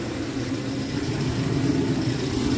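A ZZ502 big-block Chevy with a Holley Brawler 850 cfm double-pump carburetor idles steadily, a continuous low rumble that holds even and fairly loud throughout with no talking.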